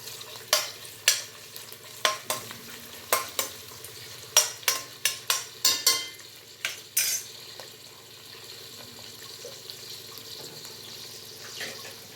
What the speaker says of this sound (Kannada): ಈರುಳ್ಳಿ ಫ್ರೈ ಆಗ್ತಿದೆ ನೋಡಿ